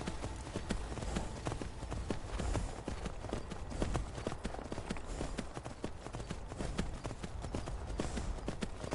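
Horse hooves clip-clop at a steady trot in the Skyrim VR video game, a dense, continuous stream of close, rhythmic hoofbeats with no talk over them.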